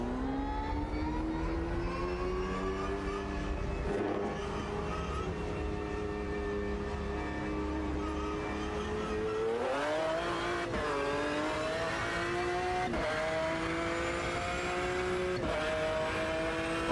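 Racing car engine in Automobilista 2, loud and continuous with rising revs, shifting pitch around gear changes, steady close onboard drone with a few sharp transient bursts.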